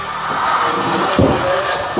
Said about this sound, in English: South African fans in the crowd are happy.